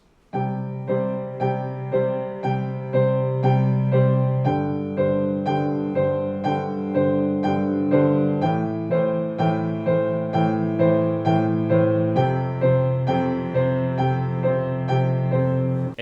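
Piano playing a right-hand seesaw exercise, a steady repeated pattern with a low note rocking back and forth against chords in an even, seesawing rhythm, heard alone.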